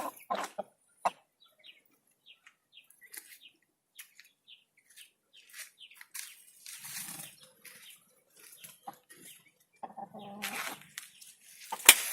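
A young hen clucks in short, soft, scattered bursts around a farm yard, with faint chirps and a little wing flapping, fairly quiet and with no talk.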